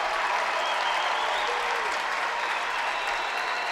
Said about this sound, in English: Norfolk's crowd is applauding their defensive effort.